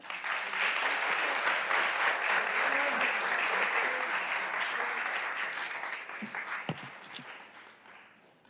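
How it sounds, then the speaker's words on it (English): An audience at a women's excellence awards evening breaks into a big round of dense, sustained applause that slowly thins and fades, with a few last claps at the end. "A big round of applause."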